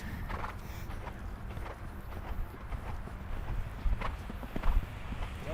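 Faint hoofbeats of a young horse on a riding course, soft irregular clip-clop thuds of footfalls around a jump, distant and low, with ambient outdoor noise and no clear talk.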